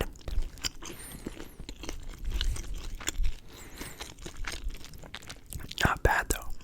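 Close crunching bites and moist chewing of a Subway sandwich, ASMR-style, with soft whispery sounds and brief crackles scattered throughout.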